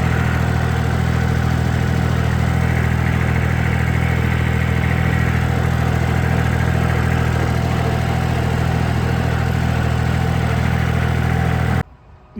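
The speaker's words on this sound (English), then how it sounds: "we'll put the little tractor to use" A small tractor engine runs at a steady idle, a loud, continuous low drone that stops abruptly at the very end.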